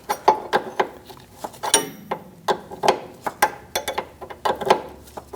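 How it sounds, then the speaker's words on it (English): A 13mm wrench loosens the brake line fitting from a rear brake hose on a 2006-2011 Chevrolet HHR, with a rapid series of sharp metallic clicks and taps ratcheting close by in an irregular rhythm. "you can switch to a regular wrench, 13mm, and take out the line from the hose"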